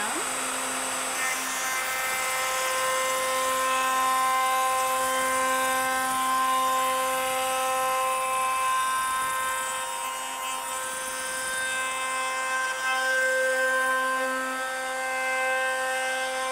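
A wood router's electric motor runs steadily while routing a pine bookshelf board, a loud continuous high whine with strong tonal harmonics that holds at an even level throughout.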